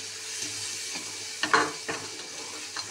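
Masala frying and being stirred in hot mustard oil with salt, turmeric and a little sugar for a Bengali tel koi fish dish: a steady soft sizzle with a few scraping spoon strokes in the middle, close by and moderately quiet.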